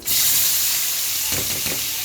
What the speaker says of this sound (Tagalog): Prito natin yung baboy.